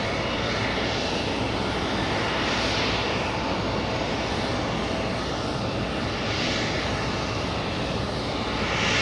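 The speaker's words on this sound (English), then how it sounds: "We have an E175 flying in from Boston. That's an arrival." An Embraer E175 jet arriving at JFK from Boston makes a steady, moderately distant roar of engine noise that swells gently and fades, with no talking.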